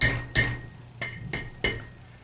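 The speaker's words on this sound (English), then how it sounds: "we'll take our hammer and we'll hammer that down in between those ears" A hammer strikes the tail of a metal strap clamp on a FAST-LOK C-2 Strapbinder tool, five sharp ringing metallic blows at uneven intervals, close and loud with a low hum beneath.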